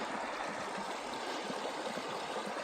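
Water of a trail stream crossing on a wild and scenic river, a steady soft rushing and gurgling that stays even and fairly quiet throughout, with no wading splashes standing out clearly.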